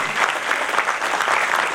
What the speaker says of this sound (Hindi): चाहेंगे कि आप जितने भी लोग यहाँ मौजूद हैं जोरदार तालियों के साथ अपना खुद का अभिनंदन करें